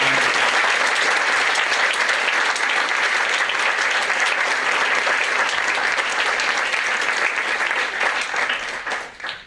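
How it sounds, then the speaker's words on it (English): Sustained audience applause at the opening session of an early arrival program, loud and steady for about nine seconds before tapering off at the end. "another round of applause"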